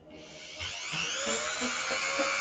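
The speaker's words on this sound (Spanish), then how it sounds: "voy a pasar un poco de lija toda esta parte" Sandpaper is rubbed by hand over a handmade children's superhero-themed craft centerpiece, giving a continuous hissing scrape that swells slightly with each stroke, close up, with no talking.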